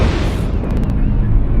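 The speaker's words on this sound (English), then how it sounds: "Incoming missile." Missile explosion in a video game, heard as a loud, sustained rumbling blast that fills the whole clip with heavy low-end roar.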